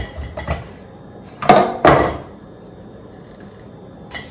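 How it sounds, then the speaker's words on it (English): Cake batter for a Torta de Santiago is scraped into a greased springform pan. A spatula gives a couple of soft knocks, then two sharp, close clanks against the metal pan and a faint tap at the end. "I'm going to put our batter in there."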